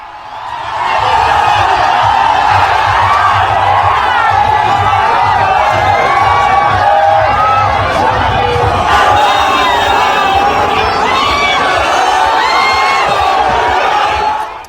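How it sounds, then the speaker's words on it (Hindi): A large crowd at Yogi Adityanath's road show in West Bengal roars and chants loudly and continuously, with whoops and shouted voices blending into a dense, sustained din close by. "देखिए जरा दूसरी तरफ भीड़।"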